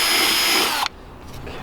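A power drill bores a pilot hole into wood during a wickerbill installation on a 570 Challenger, whining steadily and close for almost a second before cutting off abruptly, leaving faint clicks and handling noise.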